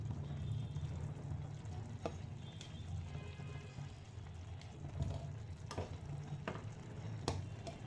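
A spoonful of ghee goes into carrot halwa frying in a pan, giving a soft, continuous sizzle with scraping stirs and occasional sharp clicks from the spoon, fairly quiet and without talk.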